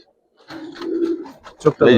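Giribaz colouring pigeons give a drawn-out low coo followed by a couple of shorter calls, close and fairly loud, with a voice mixed in.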